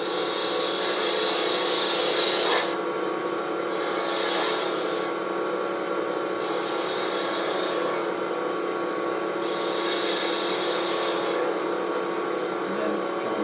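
A wooden rolling pin spins on a lathe while a turning tool cuts a taper, giving a loud continuous rough scraping hiss that swells and eases with each pass.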